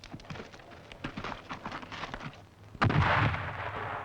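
A Losfeld MDF multipurpose grenade bursts on impact: a sharp, loud blast breaks in after a stretch of rough rumbling and crackle, then a heavy roar trails off.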